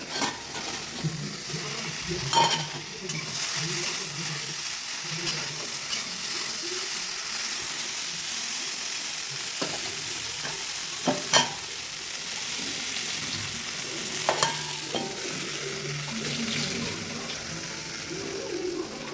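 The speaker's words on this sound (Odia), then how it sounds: "ସେପଟେ ତ ଭେଣ୍ଡି ଭଜା ବସେଇ ଦେଇଛି।" Okra frying in a pan, a quiet steady sizzle with occasional utensil taps and scrapes, fairly faint and without speech.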